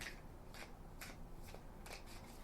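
Tarot cards are shuffled and drawn in several quick, crisp riffling bursts, soft and close against a quiet background.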